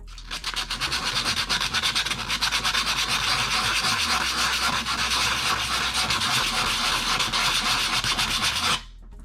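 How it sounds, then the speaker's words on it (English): Sandpaper rubs steadily over a wire sculpture whose surface has a message burned into it, a close, continuous rasping scrape of even loudness that runs for about nine seconds and then stops abruptly. "now I'm going to basically take some sandpaper and just kind of give it a little bit better of a finish"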